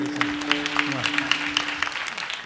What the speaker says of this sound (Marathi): टाळी वाजवा एकदम मस्त बघितलं